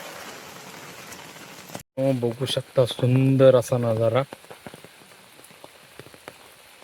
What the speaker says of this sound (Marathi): खूप पाऊस देखील चालू आहे इकडे.